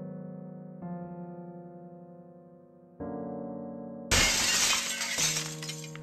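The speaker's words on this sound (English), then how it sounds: "You take the vase and smash on the floor." A glass vase smashes on the floor in a horror visual novel, a sudden loud bright shatter that cuts through sustained eerie synth tones, with the crash lingering over the music.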